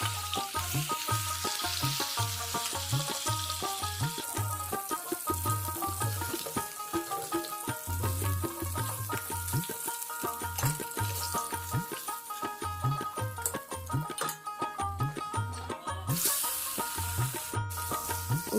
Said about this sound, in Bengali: দেখো, মাছগুলো ভেজে নিচ্ছি।